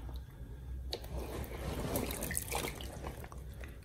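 A denim jacket is lowered into a tub of black dye water, giving soft sloshing, dripping and trickling sounds that continue steadily at close range with no talk.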